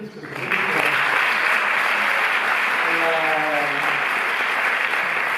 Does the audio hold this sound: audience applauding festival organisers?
yes